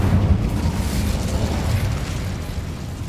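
An Incendio fire spell bursts in Hogwarts Legacy, a loud booming blast with a heavy low rumble that slowly fades over a few seconds.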